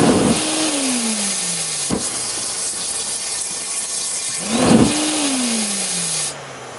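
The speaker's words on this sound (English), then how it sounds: "first I'm going to give it too much fuel and have a flame out" A homemade turbojet combustor runs over-fuelled and flames out, giving a loud, steady hissing roar broken twice by a falling-pitch whoosh as the flame dies and relights.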